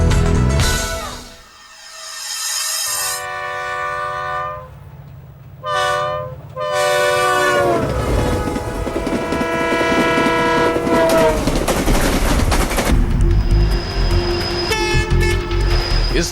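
A train at an Indian railway station sounds loud, multi-tone horn blasts, then a rolling roar with clattering wheels as it passes close by.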